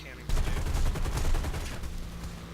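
A P-39 aircraft cannon fires in War Thunder, a rapid, loud burst of closely spaced shots rattling for about two seconds over steady engine drone, then tapering off.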